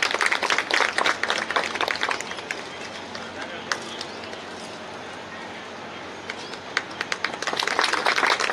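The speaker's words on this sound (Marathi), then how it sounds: "पवार सरांसाठी टाळ्या वाजवायच्या आहे." Applause for Pawar sir at a gathering: a crowd claps loudly and densely, thinning to scattered claps in the middle before swelling again into full clapping near the end.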